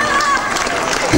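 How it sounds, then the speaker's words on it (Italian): Brief burst of concert audience applause at a show in Taurianova, a dense wash of clapping heard up close and fairly loud. "fatevi un applauso"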